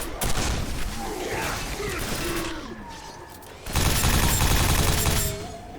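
Rapid nail gun fire in the Quake 4 shooter, loud dense bursts of mechanical shots that run almost continuously, dip in the middle, then surge back with heavy thumping under game noise and faint voice.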